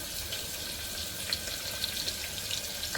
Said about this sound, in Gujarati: આ ચોપ કરેલા કાંદા બી નાખી દીધા છે એની અંદર